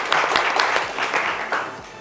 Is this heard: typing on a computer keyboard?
no